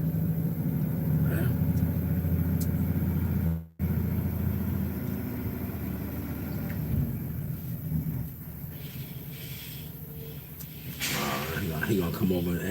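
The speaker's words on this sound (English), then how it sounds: "That's an old school Peterbilt." An old-school Peterbilt truck with a stick shift rolls in nearby, its engine giving a steady low rumble that briefly cuts out, then grows rougher and louder. People talk over the engine noise.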